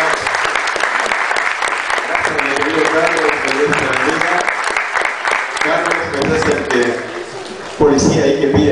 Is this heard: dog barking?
no